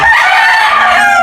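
A high-action straight-comb gamecock broodcock rooster crows once, loud and close, in a short, sustained call.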